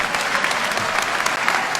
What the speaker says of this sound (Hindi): आप लोग अपने लिए भी तालियां बजाइए।